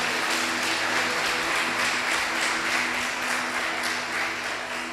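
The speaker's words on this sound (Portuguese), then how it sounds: "Vamos aplaudir, irmão, esse casal." Church congregation applauding a couple celebrating 60 years of marriage, a sustained even patter of many hands clapping, steady and moderately loud without speech.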